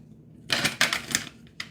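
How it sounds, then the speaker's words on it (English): A deck of cards being shuffled for a reading, giving a few quick papery riffling bursts up close, then a brief final snap of cards. "I'm going to shuffle these a little bit now."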